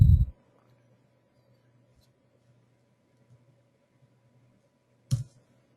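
Two sharp mouse clicks at a computer while working in midas bridge design software, one at the very start and another about five seconds later, each brief and alone against a quiet room hum.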